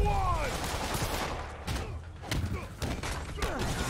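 Gunfire in Marvel's Spider-Man, a rapid scatter of shots and thuds from several directions in a chaotic fight, bursts repeating at irregular intervals with a faint voice early on.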